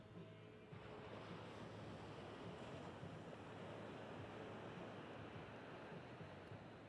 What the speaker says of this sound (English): Just enjoy the sound of the ocean.